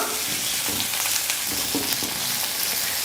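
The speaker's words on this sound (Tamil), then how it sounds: "இப்போ இது எல்லாத்தையும் சேர்த்து நல்லா வதக்கிக்கலாம்" Ginger, garlic and green chillies sautéing in a pan, a dense close sizzle with intermittent stirring scrapes throughout.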